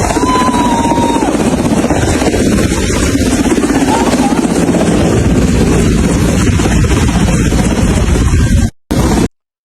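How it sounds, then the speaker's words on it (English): Helicopter rotor and engine roar loud and steady as troops drop food and medicine from its side over flooded streets, the noise continuous throughout and briefly cutting out near the end. "the troops actually throwing off the food and the medicine off the side of the helicopter"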